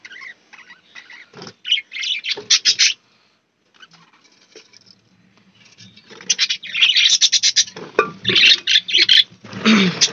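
Budgie chicks chirp in busy, rapid bursts close by, a cluster of high calls, then a quiet gap, then a longer stretch of overlapping chirps.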